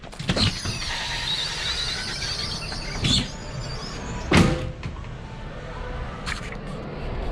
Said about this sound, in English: open the door, and then you gotta pull it